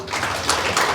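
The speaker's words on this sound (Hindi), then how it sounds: "अभी बजी। मेरी आवाज आने से पहले ताली बजाओ।" An audience claps at a Shree Dwarkadhish Katha religious gathering in Coventry, UK, with many hands overlapping into a brief, dense patter of applause.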